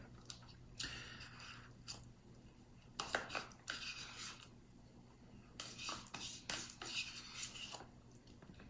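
A spoon scrapes and scoops a soft filling out of a container while grilled Texas Twinkie appetizers are prepared, giving quiet repeated metallic scrapes and wet squishes in uneven bursts.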